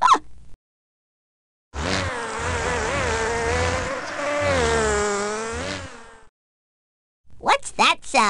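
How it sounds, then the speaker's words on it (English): A loud, wavering buzz of a cartoon bee in a babies' PC game drones for several seconds, rising and falling in pitch, with brief bits of voice before and after. "A bee! He buzzes and flies from flower to hive"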